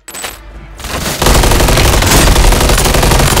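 Dense, continuous automatic gunfire erupts after a brief quieter start, loud and relentless with overlapping bursts, from a firefight in Call of Duty.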